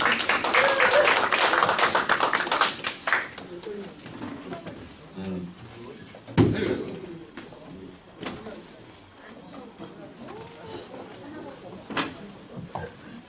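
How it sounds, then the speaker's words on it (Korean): An audience at a business award ceremony breaks into dense, loud applause that fades after a few seconds, leaving a host talking over scattered claps and a brief burst. "최현옥 사장님 박수 부탁드리겠습니다"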